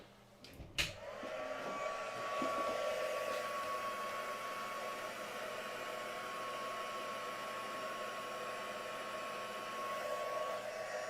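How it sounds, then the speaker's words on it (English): A heat gun drying craft paint runs as a steady, quiet whirring blow with a faint tonal hum, starting after a couple of clicks and continuing alone without any speech. "put my heat gun in."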